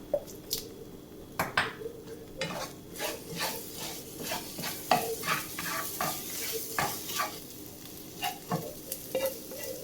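Scrambled eggs are stirred in a frying pan, a soft continuous sizzle broken by frequent close scraping and squishing strokes of a spatula in an uneven rhythm, no voices.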